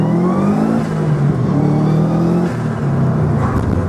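A 1998 Subaru Impreza WRX GC8 with unequal-length headers pulls away in first gear, its engine revving loudly and steadily from near standstill, a rising throaty drone filling the cabin without talk.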